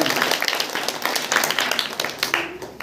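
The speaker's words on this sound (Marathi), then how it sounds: "म्हणून एकदा जोरदार टाळ्या यांच्याविषयी पुन्हा एकदा होऊ द्या" An audience at a school Republic Day gathering claps, a dense sustained patter of many hands that stays fairly loud and even before thinning slightly at the end.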